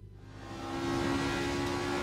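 A race car engine in Assetto Corsa revs up from a low rumble to a steady, loud, buzzing drone with a sustained tonal whine, building over the first second and holding.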